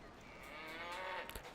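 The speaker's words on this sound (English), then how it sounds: "Okay, let's talk to the cows then." A cow moos in the video game Baldur's Gate, a single drawn-out low call lasting over a second, clear and fairly close with no talk over it.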